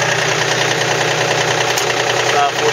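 A John Deere 4300 compact tractor idles steadily with a close, constant engine drone while its three-point hitch is raised and lowered, leaving only faint hydraulic shifts in the engine noise.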